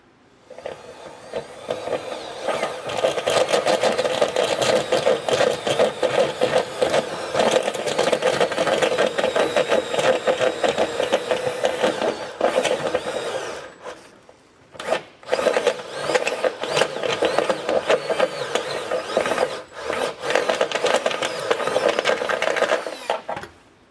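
A step bit drills out and enlarges a hole in the body of a 2023 Toyota Camry while a Curt trailer hitch receiver is fitted, making a loud, steady whirring grind that runs almost continuously with one short pause midway.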